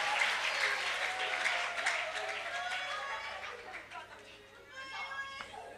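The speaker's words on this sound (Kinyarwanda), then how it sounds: "Ayo mashyi menshi ku Mana." A church congregation gives a burst of applause during a prayer service, many hands clapping loudly at first and then tapering off, with voices and a few shouts mixed in.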